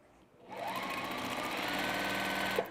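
A sewing machine stitches down a quilt block seam, starting after a brief quiet moment and running in a steady, fast mechanical whir with rapid needle ticks until it stops.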